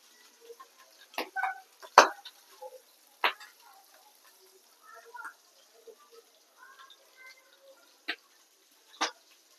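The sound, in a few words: fish frying and crackling in oil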